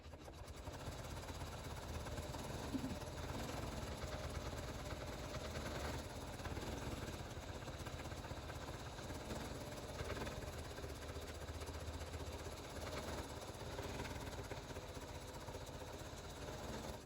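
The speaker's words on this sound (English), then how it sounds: "I'm going to place a lighter blue thread in and go ahead and stitch the flower" An embroidery machine stitching a small flower in light blue thread hums and whirs at a steady, even level throughout, close and continuous with no talking.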